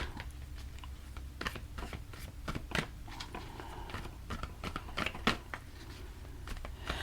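A deck of Modern Witch Tarot cards is shuffled close up, giving soft irregular riffling, tapping and crisp card snaps at low volume.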